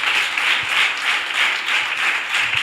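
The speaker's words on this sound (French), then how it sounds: "Applaudis pour le roi des rois." Church congregation applauding in praise, a dense, steady wash of many hands clapping with a gently pulsing rhythm, loud and continuous throughout.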